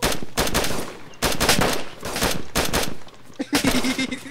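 Rapid bursts of loud automatic gunfire crack in the survival shooter DayZ, with several sustained volleys and brief gaps between them, plus a short voice-like tone near the end.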